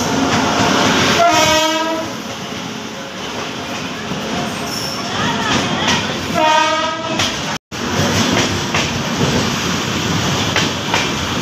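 A train arrives at Sugauli station's platform 2, with a loud, steady rumble and two long horn blasts, one early and one later, followed by continued close rolling noise.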